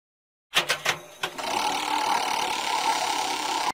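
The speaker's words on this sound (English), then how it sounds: "Motorbike." Motorbike engine sound from a kids' English learning video game: a few sharp bursts at the start, then a steady buzzing drone that runs close and fairly loud to the end.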